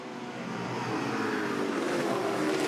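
Touring Car Masters race cars, a Camaro and an AMC Javelin among them, roar in a pack around Bathurst, a steady loud engine drone that builds slightly with a rising high whine near the end.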